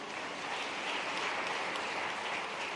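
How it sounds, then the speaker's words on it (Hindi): An audience at a student awards event in Bhopal claps together in a steady, dense stretch of applause, heard at moderate distance with no voices over it. "वो उनके लिए ताली बजाओ जिनने हिम्मत करी कि हाँ हम कृषि वैज्ञानिक बने।"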